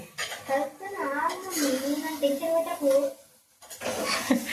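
Chicken is mixed in a cooking pot, the utensil clattering and scraping against the pot under continuous talk, with a short pause near the end before more clinks.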